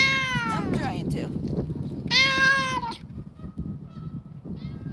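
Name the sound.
cat meowing ringtone on a phone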